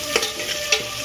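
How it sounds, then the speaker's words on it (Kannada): Onions frying in a pan for vegetable pulao, a soft steady sizzle with two brief stirring scrapes, close and alone with no voices. "ಎಲ್ಲ ಕಡ್ಡಿ ಹಾಕಿ ಇದನ್ನು ಸ್ವಲ್ಪ ಬ್ರೌನ್ ಕಲರ್ ಬರೋ ಮಟ್ಟ ಫ್ರೈ ಮಾಡ್ಕೋಬೇಕು"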